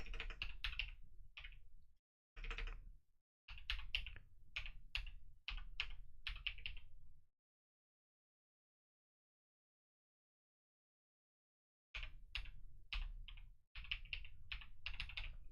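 Computer keyboard typing: bursts of quick, crisp key clicks in irregular runs, a long pause, then another flurry of taps, close and fairly quiet with no voices.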